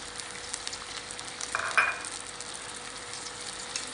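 Shallots sizzle in a pan for Kerala beef masala, a close, steady frying crackle with a brief louder burst of stirring partway through.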